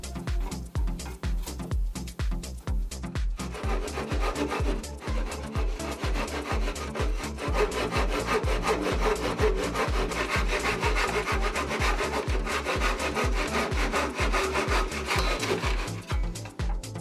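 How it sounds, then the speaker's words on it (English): A hand saw cuts through pieces of wood for a guitar tremolo block, steady rhythmic back-and-forth strokes, loud and close, running continuously with no talk. "And now we can start cutting the pieces of wood."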